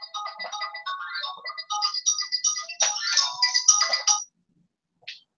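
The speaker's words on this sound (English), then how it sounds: "phone ring." A phone ringtone plays at close range in a home, a bright melodic electronic tune looping for about four seconds before cutting off, followed by a brief short tone.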